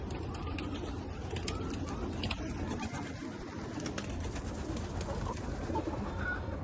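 Pigeons in a loft of inbred red-check birds coo amid a dense, steady flutter and rustle of wings and bodies, with scattered sharp clicks over a constant close, busy din.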